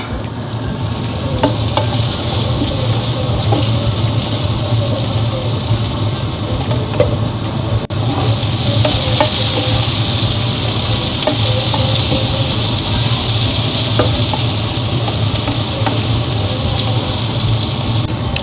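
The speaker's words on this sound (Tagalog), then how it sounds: "So, priniprito ko na yung ating tofu." Tofu fries in a pan with a loud, steady sizzle that holds for about eighteen seconds, gets hissier and brighter partway through, and has faint clinks and scrapes from stirring and no voices.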